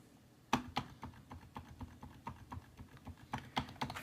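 Fingers type on a freshly cleaned computer keyboard, a steady run of close, crisp key clicks with a few louder taps, no voices.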